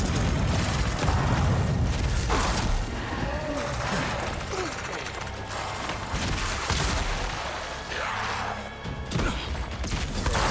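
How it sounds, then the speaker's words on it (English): Grenade blast amid combat in the fantasy video game Avowed: a dense, loud stretch of booming, crashing impacts and clattering mechanisms with continuous rumbling, no clear single peak. "And then a grenade for good measure."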